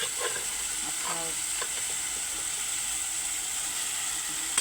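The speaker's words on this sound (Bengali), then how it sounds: "আমি সবসময় তরকারি রান্না করলে ভেজে নিই" Vegetables for a curry fry in a pan with a steady, close sizzle and hiss, broken by a few scraping stirs and light clicks of a utensil, with no voices.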